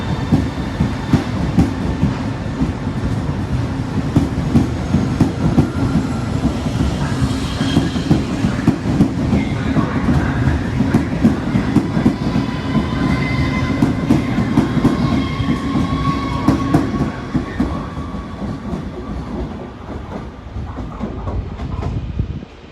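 A Trenitalia regional train rolls through Venezia Mestre station, a loud, steady rumble of wheels on rail with rhythmic clacking and faint squeals, easing slightly toward the end.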